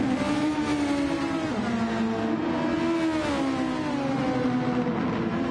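Race car engines in Gran Turismo on the Trial Mountain circuit, holding a steady loud drone with rising and falling pitch as cars run nose to tail in the slipstream down the main straight, without talk.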